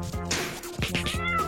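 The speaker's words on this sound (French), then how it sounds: "c'est le chat des voisins Sparky." A cat meows loudly several times in quick succession, close by, drawn-out and whiny with no talking.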